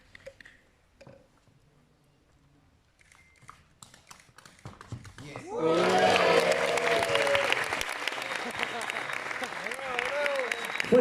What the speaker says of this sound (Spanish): Fuerte el aplauso para Cincel